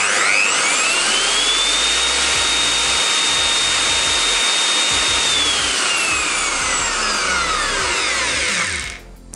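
A Skil 1860AA router spins up with a soft start, its loud, steady high whine gliding upward and holding at full speed before winding down at the end, with no talking.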